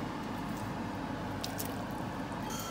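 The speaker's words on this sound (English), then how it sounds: "We're just going to add the chicken, bring it up, back up to the boil" Chicken pieces going into a pot of boiling Thai green curry give a steady, close bubbling and wet squishing simmer, continuous throughout with no talking.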